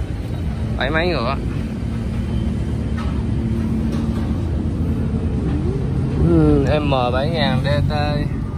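A Kubota M7000 79 hp tractor engine idles with a loud, steady diesel rumble throughout, while someone talks over it in several bursts.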